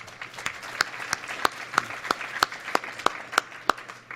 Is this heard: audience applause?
yes